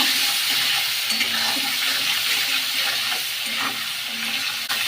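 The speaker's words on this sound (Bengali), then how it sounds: "মাছটা ভাজা ভাজা হয়ে গেল" Prawns frying in a pan with continuous loud sizzling, overlaid by scraping and clattering as they are stirred, steady throughout with no voices.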